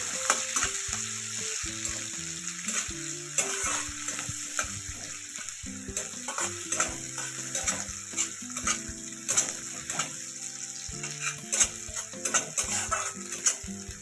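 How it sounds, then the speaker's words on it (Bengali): Sliced onions sizzle in mustard oil with five-spice seeds and nigella while being stirred in a pan for an eggplant poppy-seed curry, with a steady close fry, repeated spatula scrapes and faint melodic tones underneath. "এবার দেবো এতে কিছুটা পেঁয়াজ দিয়ে ভালো করে নাড়াচাড়া করে নেব"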